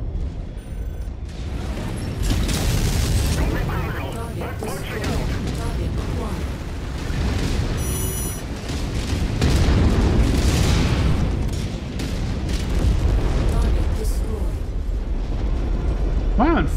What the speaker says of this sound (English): An ammo explosion.